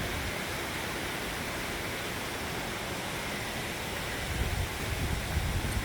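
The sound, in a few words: waterfalls on Great Rigg fell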